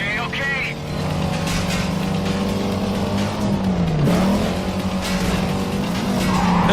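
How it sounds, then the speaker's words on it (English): A race car in the Need for Speed Carbon video game revs hard and shifts gear aggressively, its engine pitch dropping and climbing again under continuous loud engine roar, with people talking over it. "That shift sounded so aggressive."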